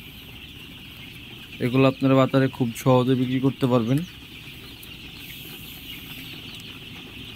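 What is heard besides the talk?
Sonali super hybrid chickens clucking on a farm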